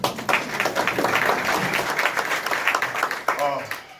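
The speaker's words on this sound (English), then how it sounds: "give everybody who works here a round of applause" Scattered applause from a small gathering honouring the staff at a community event, uneven claps rising and falling over a few seconds with a voice cutting in near the end.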